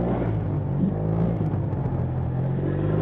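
A Yamaha TMAX maxi-scooter engine hums and revs steadily nearby, a light, smooth rumble with faint clatter and no voices.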